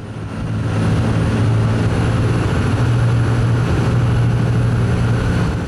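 A steady, droning rotor-and-engine roar holds for several seconds, loud and continuous, from a helicopter hovering nearby during a sea rescue of migrants.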